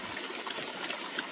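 Stream running through moss-filled water on a hiking trail, a soft continuous rushing and trickling, faint and steady, with no voices.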